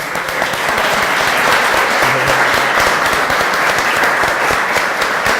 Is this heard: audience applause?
yes